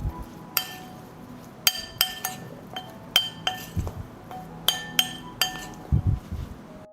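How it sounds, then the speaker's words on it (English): A spoon clinks sharply against a glass bowl as blueberries are stirred into a flour mixture, giving a series of bright, irregular taps over soft scraping, close and fairly quiet. "I'll stir."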